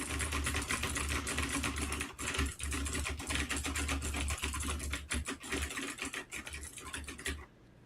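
Loud mechanical keyboard typing, a dense continuous stream of close clicky keystrokes with brief pauses, running alone until it stops just before the end.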